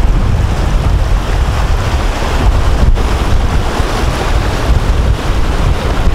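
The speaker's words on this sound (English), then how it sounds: "So there's the set again, the waves. You can hear him pounding on the shore" Ocean waves pound on a shore with a continuous loud roar of surf, heavily mixed with blustery wind buffeting the microphone.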